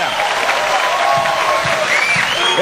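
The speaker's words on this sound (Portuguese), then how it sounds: "Uma salva de palmas para o nosso patrocínio." Studio audience applause on a Brazilian TV comedy show, a dense, steady wash of clapping and crowd noise that holds loud and even throughout, with faint background sounds mixed in.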